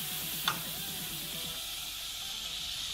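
Butter heating in a pan over a low flame, giving a steady close sizzle with a brief clink of metal near the start.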